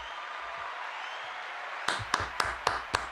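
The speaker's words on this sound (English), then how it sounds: "we need a round of applause for that" Short burst of scattered hand claps, about five sharp slaps at an uneven pace, coming in after a stretch of steady background hiss on a magic live stream.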